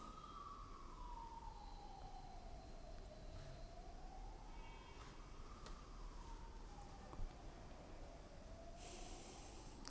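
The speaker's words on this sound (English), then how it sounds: "some ambulance" An ambulance siren wails outside, its tone sweeping slowly up and down. It sounds distant and faint, running continuously under a hissy room background.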